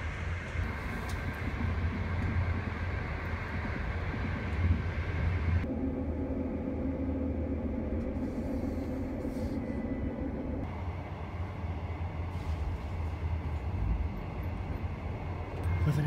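A train passing close by in China, with a steady loud rumble and rolling rail noise throughout, its tone shifting partway as different cars go past.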